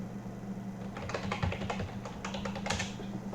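Rapid keystrokes on a computer keyboard as a terminal command is typed, an irregular patter of close, crisp clicks over a steady low hum.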